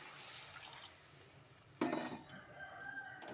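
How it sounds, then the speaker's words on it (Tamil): A little water is poured into plantain frying in a pan. After a quiet stretch, a sudden loud splash and hiss bursts out close by, then settles into a softer, continuing sizzle. "இப்போ கொஞ்சமாக தண்ணி சேர்த்துக்கலாம்"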